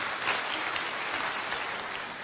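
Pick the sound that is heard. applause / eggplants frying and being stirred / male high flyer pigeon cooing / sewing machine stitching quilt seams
applause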